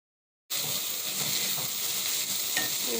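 A bean curry coated in coconut powder is stirred in a hot pan, giving a steady close sizzle that starts abruptly, with soft scraping of the spoon.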